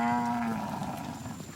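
A cow lets out a long, low moo that slowly fades, with faint background noise behind it.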